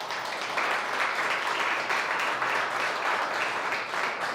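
A church congregation applauds at a service, a dense, steady wash of clapping that stays even and fairly loud from start to finish with no pauses.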